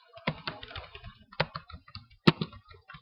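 Keys clatter on a computer keyboard in short irregular bursts of close, crisp taps, with a few louder isolated strikes and no talking.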